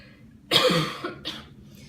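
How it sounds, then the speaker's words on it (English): A sharp, close cough from seasoning caught in the throat bursts out, followed a moment later by a second, shorter cough, with quiet background before and after. "I'm about to cough because I got way too much seasoning in my throat"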